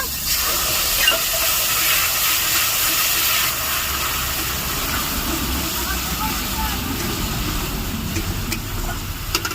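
A mix of spices and Kashmiri chilli powder hits hot oil in a wok and sizzles with a loud, continuous, close hiss. A voice is faintly present underneath.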